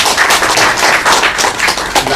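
An audience at a conference claps in a brief, loud burst, with dense overlapping hand claps forming a continuous, fairly close patter and no talking.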